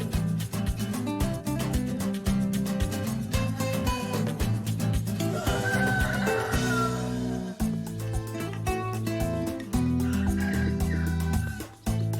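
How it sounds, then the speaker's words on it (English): Chickens cluck over steady loud background music in a small Mexican town, with a rooster crowing faintly partway through. "There are chickens and dogs everywhere, and they're so friendly."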